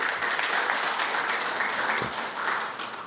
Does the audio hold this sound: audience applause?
yes